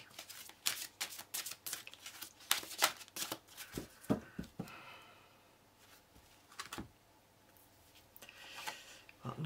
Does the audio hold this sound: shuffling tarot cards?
yes